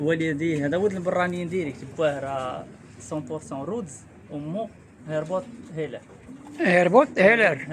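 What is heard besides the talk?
No everyday noises stand out.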